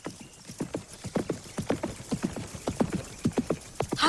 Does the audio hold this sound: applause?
no